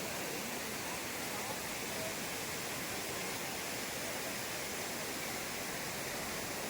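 The Thripparappu waterfall roars as a steady, broadband rush of falling water that stays even and unbroken throughout.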